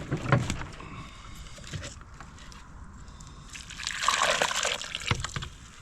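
Water is poured and stirred into sand and dirt to make a muddy mix for planting seeds indoors, giving wet sloshing and trickling sounds with scraping, close and steady.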